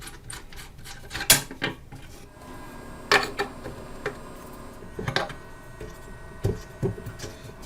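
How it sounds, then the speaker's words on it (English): Small metal clicks and taps sound at irregular intervals as nuts are undone from the chassis board of a 1931 AWA Radiola 45E C79 radio during restoration, close and fairly quiet over a faint background. "So the nuts are coming off."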